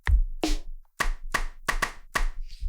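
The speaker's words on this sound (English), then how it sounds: "Kick, snare, and you have a clap right here, so you can just play all this." Drum GPT's AI-generated drum kit: a kick, a snare and a clap struck one at a time in a steady, evenly spaced sequence of crisp, close hits with short decays and brief gaps of silence between them.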